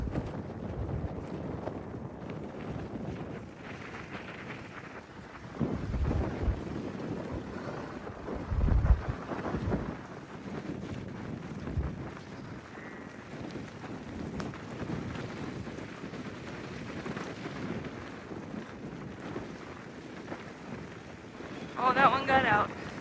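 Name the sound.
headwind blowing during a bike ride on a gravel road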